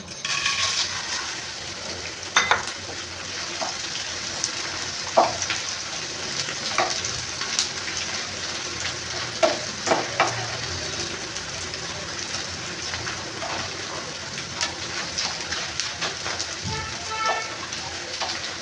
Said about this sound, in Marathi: डिंक घेऊया फ्राय करून